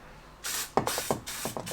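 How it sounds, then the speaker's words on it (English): XCP penetrating spray hissing onto a classic Fiat 500's front drum brakes, a series of short close bursts with faint clicks of the can in between, no talking. "Here I've just got some spray that I'm going to put on."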